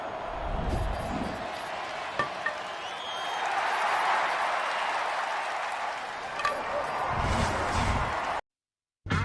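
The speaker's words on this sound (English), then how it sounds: "the crowd giving the Phillies a big round of applause" A crowd at a Phillies baseball game applauds in a broad, steady roar of clapping and cheering that swells and then eases, with a brief cut near the end.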